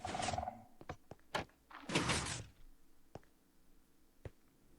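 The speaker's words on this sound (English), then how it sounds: "You can hear the skulk sensor go off, the door opens, and he's just barely able to make it inside before it shuts again" A Minecraft sculk sensor triggering and a door opening, soft and fairly quiet: a short rustling burst, a few dull thunks, then a broader sliding swoosh, followed by sparse faint clicks.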